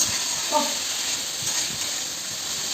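Chowmein fries in a home kitchen pan with a steady, bright hiss and sizzle throughout, punctuated by faint scraping or stirring sounds and brief quiet voice fragments underneath.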